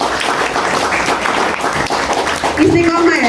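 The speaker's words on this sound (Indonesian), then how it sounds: "Tepuk tangan untuk anak-anak muda yang seneng ngaji." Applause for young Quran reciters at a religious gathering, a steady dense wash of clapping throughout, with a voice rising over it near the end.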